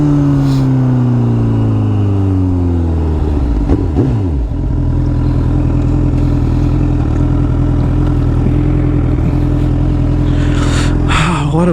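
A Honda CBR1000RR superbike roars past on the road, its engine pitch sweeping down in a loud, close flyby before settling into a sustained heavy engine drone.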